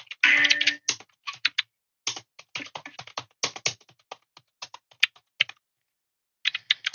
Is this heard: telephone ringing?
no